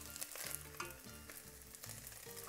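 Turkey browning in a pan of hot avocado oil gives a steady close sizzle and crackle, with soft stirring scrapes over it and no talking.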